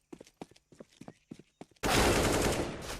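Gunfire from a Counter-Strike match: a few light, scattered taps, then a loud, sustained automatic burst that fills the rest of the moment.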